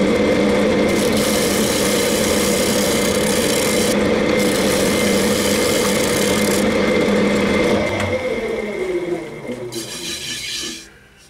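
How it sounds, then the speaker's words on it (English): A wooden bowl, an old piece being recoloured, is sanded on a wood lathe: a continuous close abrasive rubbing over the motor's hum that eases and trails off near the end. "A little ridge to take off there, and then start sanding it."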